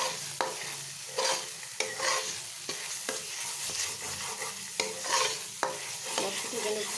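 Aar fish masala is stir-fried in a little oil, a spatula scraping and knocking the pan in repeated strokes over a continuous close sizzle.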